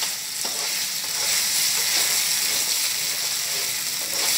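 Kasuri methi frying and being stirred into palak paneer in a pan, a steady close sizzle with faint scraping throughout and no talk.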